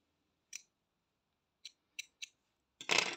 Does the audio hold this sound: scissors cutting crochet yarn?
yes